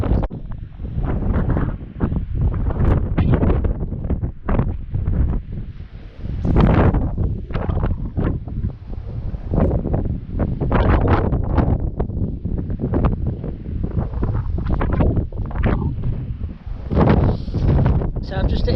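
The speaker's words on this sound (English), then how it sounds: "Yeah, it's really windy now." A strong gale sweeps an open beach on a windy morning, roaring and buffeting the microphone almost without pause, with a voice partly buried beneath the gusts.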